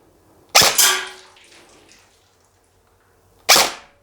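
A KWA Ronin TK.45 airsoft rifle fires in two sharp, close snaps about three seconds apart, the first a quick double, with no talking.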